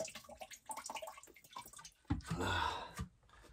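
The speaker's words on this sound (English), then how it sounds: "gonna go ahead and pour that water" Dirty water from a whole-house water filter housing pours into a bucket in a short splashing gush, preceded by scattered drips and small movements, close and fairly loud.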